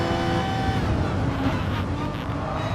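Race cars in the GT Sport video game, racing at Goodwood, roar steadily as one overtakes another around the outside, a continuous loud engine drone with slight swells and no talk over it.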